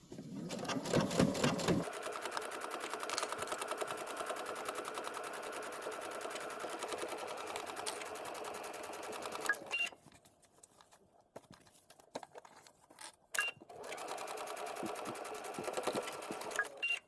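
A sewing machine stitches a garment lining in fast, steady runs, pausing briefly near the middle before starting again; the whirring is close and fairly quiet, with no talk.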